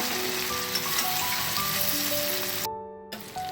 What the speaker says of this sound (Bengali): খুব ভালো করে কষাতে হবে, আর একটু ভাজা ভাজা করে নিতে হবে